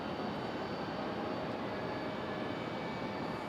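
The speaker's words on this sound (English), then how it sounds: "JetBlue on the move in their A320." A JetBlue Airbus A320 taxiing at Raleigh-Durham airport produces a faint, constant engine hiss and whine at a distance, unchanging throughout with no other sounds standing out.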